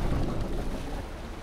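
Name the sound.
boat engine running in the video game DayZ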